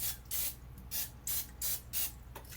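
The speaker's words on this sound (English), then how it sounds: "you're going to spray your bake pan" Several short hissing bursts of aerosol cooking spray onto a baking pan in quick succession, close and fairly loud, with brief pauses between them.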